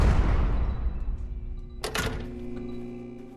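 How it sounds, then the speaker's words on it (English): A heavy thud with a ringing, metallic tail marks an explosion in an Exit 8 clone video game, heard once partway through after a fading low rumble, fairly loud and without talk. "I heard the explosion."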